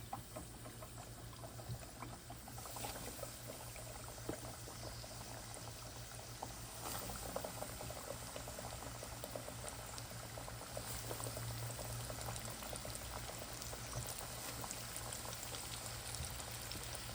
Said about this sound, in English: time to fry.